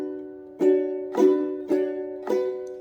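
Four evenly spaced ukulele strums, each ringing briefly before the next, played alone at a moderate, steady pace.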